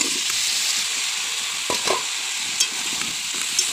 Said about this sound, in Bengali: মশলাটা দেখো তেল ছেড়ে দিয়েছে। এইবার আমি সবজিগুলো দিয়ে দেবো।